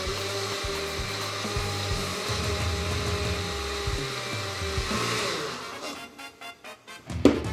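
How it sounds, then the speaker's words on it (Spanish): A kitchen blender runs continuously at a steady loud whir while blending plant-based or almond milk, then slows and cuts out in a few short pulsing bursts near the end. "Y pues nada, vamos a licuar."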